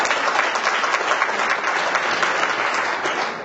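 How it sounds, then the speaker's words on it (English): Steady, dense audience applause fills a gala hall at an NAACP annual event, a continuous wash of many hands clapping with no voices, holding even before easing slightly at the end. "y'all should clap."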